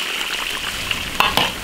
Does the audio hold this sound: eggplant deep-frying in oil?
yes